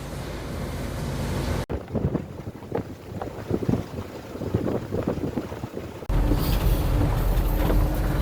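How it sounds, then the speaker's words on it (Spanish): Sea waves and wind roar at coastal cliffs near Puerto Saavedra in Araucanía, Chile, giving a loud continuous rushing surf and buffeting wind noise on the microphone, with no talking. "Lo que suena el mar, ¿no?"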